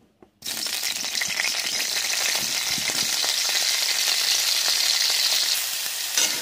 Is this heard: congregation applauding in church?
no